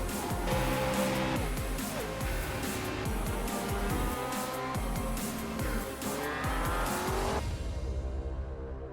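Touring race cars at Summit Point in iRacing sim racing game, dense overlapping engine whines and downshifts with tire squeal, loud and continuous before cutting to quieter engine tone.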